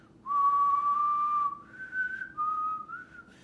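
A person whistles a short, clear melodic phrase imitating the Wolf's whistle from Puss in Boots, a sustained tone sliding up to a higher note, then dipping and rising again, alone without talk.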